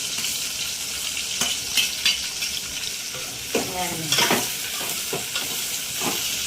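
Green chillies and onions frying in oil for chicken curry, sizzling steadily and close, with scraping stirring strokes from a utensil against the pan.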